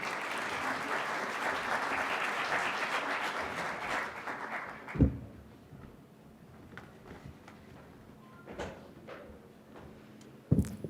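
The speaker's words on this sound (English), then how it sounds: "Give her a big round of applause." An audience at a conference hall applauds a speaker with sustained, moderately loud clapping for about five seconds, then stops, leaving a quiet room with a few thuds and faint movement.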